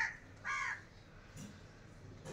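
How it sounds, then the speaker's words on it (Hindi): Crows caw from a tree outside a village mud house on a winter morning, two or three harsh calls spaced apart, moderately near over a quiet background. "हमारे सामने वाले दरख्त पर कौवे भी आकर बैठ गए और प्यारे प्यारे वाजे जो है ना वो निकाल रहे हैं"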